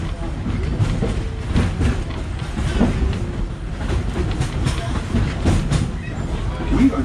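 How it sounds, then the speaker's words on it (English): Wildlife Express Train at Disney's Animal Kingdom rolling along with a steady rumble and clickety-clack of railcars, continuous and fairly loud, with faint voices under the noise. "Remain seated until the train comes to a complete stop"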